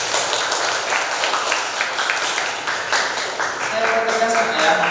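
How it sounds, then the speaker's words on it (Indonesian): A group applauds during a teacher training session, a dense wash of clapping with voices mixed in throughout. "Tepuk tangan dulu Pak."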